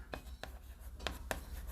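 Chalk or a marker taps and scratches on a board during a maths lesson, giving several short, close strokes in a loose rhythm over a faint room hum.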